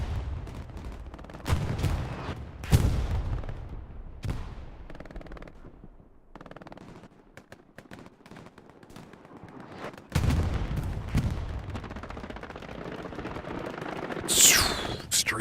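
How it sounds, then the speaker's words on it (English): Axis artillery fire in Hell Let Loose on the Carentan Canal Crossing map: several heavy, sharp blasts at irregular intervals with quieter gaps between them, then a denser stretch of rumbling impacts and crackling fire. "Big time Axis artillery shutting down part of the circle"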